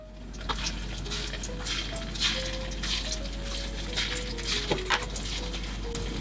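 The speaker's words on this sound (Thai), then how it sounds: "แล้วก็จะทอดอย่างนี้ครับด้วยไฟกลางไปทางอ่อนไปเรื่อยๆครับจนกว่าตัวทอดมันหมูของเราจะลอยขึ้นมานะครับ" Pork fish-style cakes (tod man) deep-frying in pork lard over medium-low heat, a steady soft bubbling and sizzling with occasional faint clinks, continuous and close.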